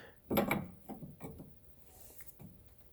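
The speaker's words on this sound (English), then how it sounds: "grab your 22 mil and cinch this guy down" A ratchet wrench with a 22 mm socket cinches down the outer tie rod end nut on a 2001 Subaru Outback, making a few short, close clicking bursts with pauses between them.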